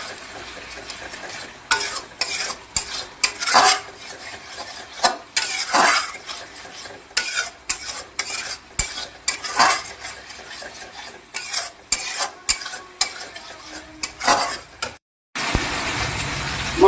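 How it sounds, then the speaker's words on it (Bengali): A spatula stirs and fries masala for koi fish in a pan, producing repeated close scraping strokes over a steady sizzle, with a brief silent gap near the end. "মশলাটা কষানো হয়ে গেছে"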